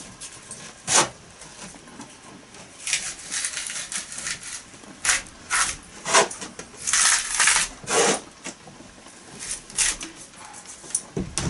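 Basswood bark being peeled loose from the wood with a drawn cutting tool, a series of sharp tearing and scraping rips in irregular bursts, close and fairly loud, with no talking.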